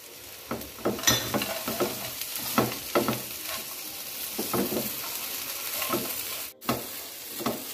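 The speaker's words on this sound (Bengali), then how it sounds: "এবার ভাজা বাদামগুলো দিয়ে দিলাম।" Semai vermicelli with fried nuts stirred in a pan, repeated close scrapes and knocks of a spoon over a low sizzle, spaced irregularly, without speech.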